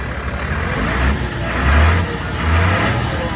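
A Unimog truck engine rumbles steadily at idle on a farm, with low throaty swells and a couple of slight revs, heard up close.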